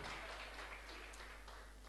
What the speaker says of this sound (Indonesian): Boleh berikan tepuk tangan bagi Tuhan Yesus